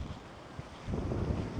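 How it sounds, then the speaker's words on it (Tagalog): Strong wind buffets the microphone on an open sandbar at El Nido, Palawan, a steady roar that swells louder halfway through, with a faint wash of sea in the background and no voices. "Sobrang malakas yung hangin dito."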